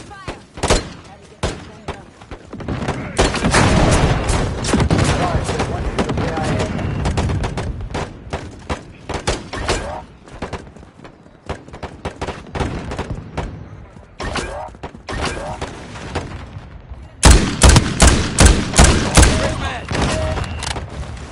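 Call of Duty gunfire and a grenade blast, loud bursts of automatic shots and heavy thumps in rapid volleys, with voices shouting over the combat.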